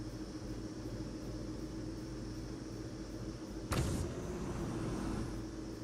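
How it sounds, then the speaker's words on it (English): Monster truck in the battle royale game PUBG Mobile, a steady close engine rumble and drone that runs throughout, with one brief sharp rattling thud partway through. "Driving through zone in a monster truck"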